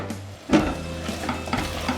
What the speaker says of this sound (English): As you can see, it's boiling away very nicely. Just give it a quick little stir.